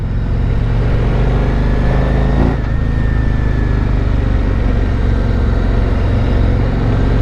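A 2026 Harley-Davidson Street Glide Limited motorcycle accelerating as the throttle is twisted: a loud, steady engine drone that briefly dips partway through, then carries on strongly to the end.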